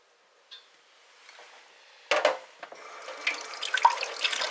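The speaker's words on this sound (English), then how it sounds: "I'm just going to pour it into the squeeze bottle." Liquid dye made from Kool-Aid is poured into a squeeze bottle, a close, steady trickle and splash of liquid that starts faintly and grows louder and busier over several seconds.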